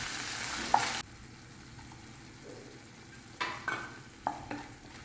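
Curry leaves dropped into a hot pan of Malayalam curry with ketchup and Kashmiri chili powder give a soft, steady sizzle, broken by a few sharp clatters of stirring near the end. Quiet and close, with no talking.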